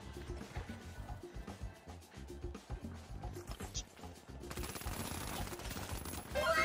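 Rapid gunfire bursts from a weapon in The Finals, a dense run of sharp shots through the first few seconds giving way to a louder, noisier wash of in-game action toward the end, with a player talking at times.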